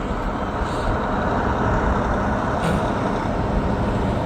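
Air brakes on a railroad train air up, a loud, continuous broadband hiss and rumble with a steady low drone throughout, heard outdoors near the track with no talk.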